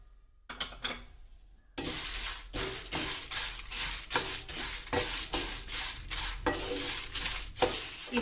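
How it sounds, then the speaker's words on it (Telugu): Spices and dried red chillies are stirred in a pan over medium flame, a spatula scraping and clinking against the metal in a steady repeated rhythm over a low frying hiss, close and without talk. "ఇవన్నీ మంచి సువాసన వచ్చేదాకా ఇలా ఫ్రై చేసుకుంటే చాలండి."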